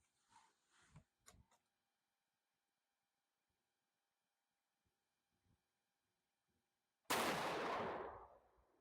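A Savage 110 Trail Hunter rifle in 7mm-08 fires a single loud, sharp shot outdoors that rings and decays over about a second, after faint scattered handling noises and long quiet.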